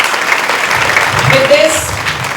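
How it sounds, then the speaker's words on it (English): Audience applause at a school event in Visakhapatnam, continuous clapping with voices mixed in over it. "Big round of applause for them."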